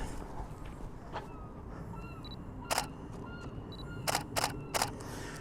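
Several sharp camera shutter clicks from a camera with a Tamron 300mm lens, a pair then a quick run of three, crisp and close against quiet outdoor background noise.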